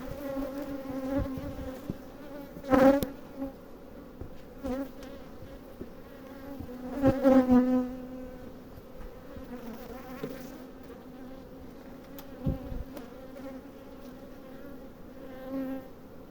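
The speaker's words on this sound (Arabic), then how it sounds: "لا أريد النهض بقوة حتى لا يضيع مني النحل في الهواء" A wild honeybee swarm that had built comb on tree branches buzzes steadily as it is moved into a hive, with a constant droning hum that swells in louder bursts now and then.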